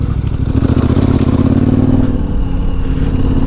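A KTM 1290 Super Adventure R motorcycle engine pulls in third gear at low speed, giving a loud, steady, close-up low rumble that chugs along evenly with no voices.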